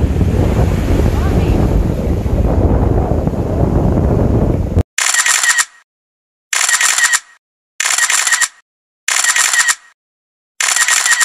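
Ocean waves break on a beach at a Mexican family resort. A loud, continuous surf roar mixes with heavy wind buffeting for about five seconds, then gives way to short, chopped bursts of sound separated by silence.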